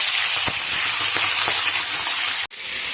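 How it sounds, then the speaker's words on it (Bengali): Pomfret fish frying in hot mustard oil gives a loud, steady sizzle with soft pops throughout. The sizzle cuts out briefly near the end, then resumes. "সরষের তেল ভালো করে গরম করে নিয়েছি। এবার মাছগুলো আমি ভেজে নেব।"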